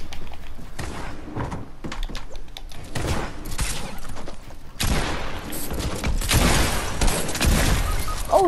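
In a shotgun-only video game match, the gunfire comes as a rapid jumble of booming blasts and impacts, with a denser, louder stretch of shots in the second half.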